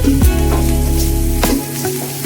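Chopped onion, ginger and green chili with salt sauté in a hot pan, giving a loud, close sizzle over a steady musical drone for a couple of seconds.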